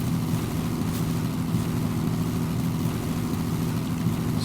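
An aircraft approaches to land in a fighter jet video game, producing a loud, steady, low engine drone that continues without change throughout, with no speech.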